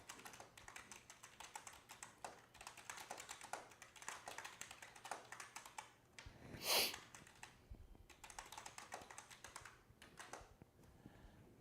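Someone types on a computer keyboard in quick, irregular bursts of soft clicks, close and fairly quiet, with a louder sharp tap midway and short pauses between runs.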